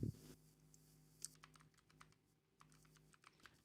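A traceroute command tapped out on a computer keyboard, quiet, close key clicks in an uneven typing rhythm, preceded by a brief thump, with no speech.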